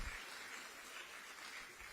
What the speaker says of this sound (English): give the former president of the University of Liberia a big hand of applause